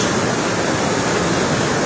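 Flooded Murgul stream in Artvin rushing after a flood, carrying debris, a loud, unbroken roar of churning water close by with no pauses.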